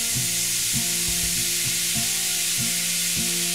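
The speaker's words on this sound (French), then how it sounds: "mettre à feu vif pour faire pincer les sucs. Donc on va déglacer au pommeau." A hot pan of duck juices deglazed with pommeau over high heat gives a loud, steady sizzle close up. Regular clacking stirs of a utensil against the pan sound through it, with no talk.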